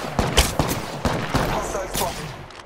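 Gunfire in the video game Apex Legends comes as several sharp, loud shots in quick irregular bursts, with short pauses between them and a faint voice underneath.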